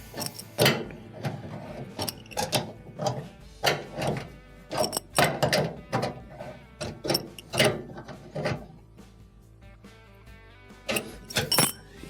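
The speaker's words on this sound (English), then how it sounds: "And then let's start to tighten this the rest of the way down." A screw being driven down on a range's gas pressure regulator, a run of close metallic clicks and ratcheting taps in irregular bursts with short pauses between turns.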